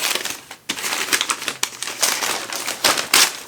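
Wrapped books being unwrapped at close range, with dense crinkly tearing and rustling of wrapping that comes in bursts and brief pauses, loud and alone with no voices.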